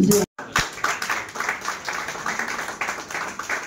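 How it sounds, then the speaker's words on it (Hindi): An audience applauds at a National Doctors' Day ceremony attended by a state minister, a steady even clapping after a brief silence, with faint voices in the background. "बहुत बहुत आभार आपकी तालियों।"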